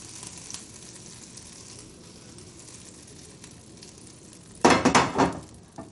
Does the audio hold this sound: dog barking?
no